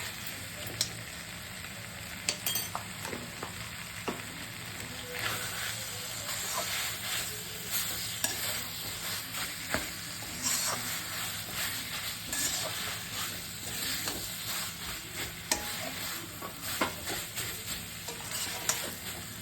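Raw jackfruit being stirred and fried in a little ghee gives a steady close hiss with frequent scraping clicks from the stirring, no talking.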